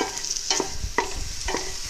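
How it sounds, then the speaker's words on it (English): Close, hissing sizzle of onions and garlic frying in a pan, with a few short scrapes of stirring punctuating the steady crackle. "Now I hear a sizzle."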